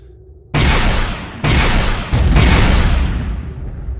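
Disruptor cannons fire in a Star Trek Adventures sound effect as three loud, booming blasts in quick succession, each a broad roaring burst that overlaps the last and fades out slowly.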